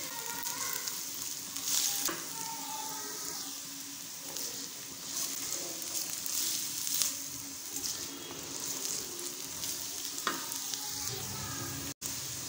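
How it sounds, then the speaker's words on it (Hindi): Two large, finely chopped carrots fry with garlic in a pan, giving a steady, fairly loud sizzle with occasional stirring scrapes throughout, and no talking. "गाजरों को हम अच्छे से फ्राई करेंगे।"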